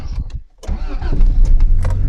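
A carburetted 1991 Honda Civic ED2 engine starting from cold, a brief crank catching into a rough, loud idle, recorded up close.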